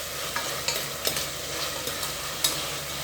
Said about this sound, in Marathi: हे जरा मऊसर होईपर्यंत मी परतून घेणार।